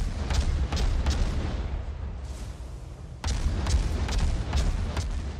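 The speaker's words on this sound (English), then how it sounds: "So the New Orleans is under fire" Naval gunfire in the World of Warships game, rapid rhythmic booming salvos with deep rumbling low end, a brief lull partway through before the steady barrage resumes, loud and dense.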